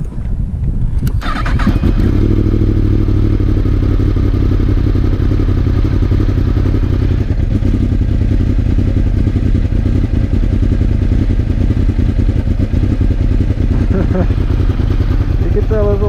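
A Yamaha R1M superbike engine idles loud and close on an E85 ethanol blend, a steady low rumble that catches and settles after a short start, holding a continuous drone throughout.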